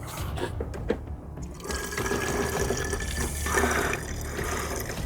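During a car detailing job, a container is filled with a cleaning product: a continuous liquid pour gurgles and splashes close by at moderate volume, with no voices.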